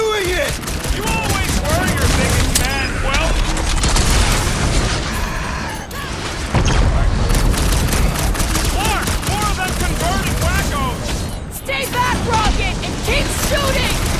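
Dense, loud gunfire and blasts fill a combat scene in the video game Marvel's Guardians of the Galaxy, rapid shots and bursts overlapping almost without pause, with voices shouting over the chaos.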